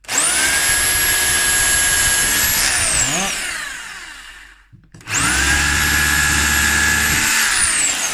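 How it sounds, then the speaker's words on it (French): Cordless drill in drill mode boring holes with wood bits, a loud high motor whine that winds down and stops, then spins up again for a second hole. "Je le mets en mode perceuse."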